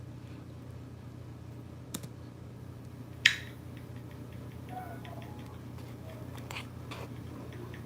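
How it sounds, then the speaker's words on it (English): Sparse, faint clicking taps over a steady low hum, with a sharper click near the middle and scattered light taps afterward. "Look at her typing in her own chat."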